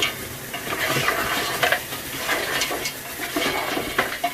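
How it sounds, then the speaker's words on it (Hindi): Something fries in oil with ginger and garlic while being stirred, giving a steady close sizzle broken by repeated scraping and clinking strokes of a spatula against the pan, with no voices. "इस तरीके से ये अदरक लहसुन के साथ आप इसको फ्राई करेंगे"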